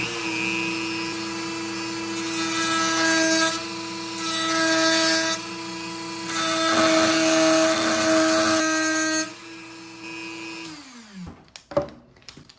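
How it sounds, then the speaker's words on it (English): Dremel rotary tool cutting an oval in a vintage lamp part, high whining grinding in three bursts separated by short pauses, then the motor spins down and a few clunks follow. "we're going to cut it out with the Dremel tool"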